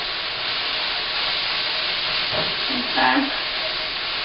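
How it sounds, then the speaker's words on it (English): Onions stir-frying with garlic in a hot pan give a steady hiss and sizzle, with a brief stir and a short spoken word near the end. "we're just gonna stir fry our onions until the onions are nice and soft"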